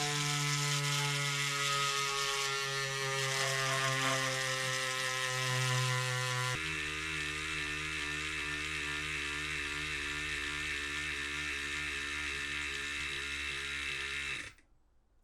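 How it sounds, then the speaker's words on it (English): A small battery-powered pump runs continuously for about fifteen seconds, a steady motor whir with a ratcheting rhythm that changes pitch partway through, then cuts off abruptly at the end. "let's see if we can successfully pump the third time"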